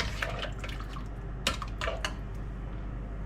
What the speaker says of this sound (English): Rinse that bowl out while it's still warm.